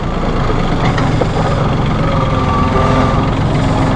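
A 2011 Massey Ferguson 1635 hydrostatic compact tractor idles steadily, its low diesel rumble and faint harmonic whine holding constant and close throughout, with no voices over it.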